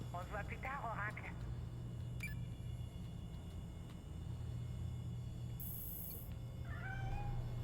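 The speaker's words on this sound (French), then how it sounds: "on dirait un chat de gouttière" A stray alley cat in the Gotham Knights video game meows in a few quick, close cries and then mews again near the end, over a steady low rumbling background.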